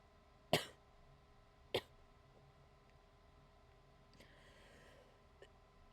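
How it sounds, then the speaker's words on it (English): A person coughs in a quiet room, two sharp separate coughs early on, then a faint throat sound and another short cough at the very end, with silence between them. "Gonna have a coughing fit."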